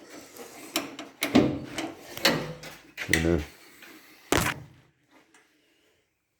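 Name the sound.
van door being closed and locked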